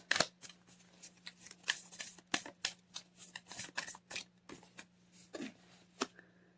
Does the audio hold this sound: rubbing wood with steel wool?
no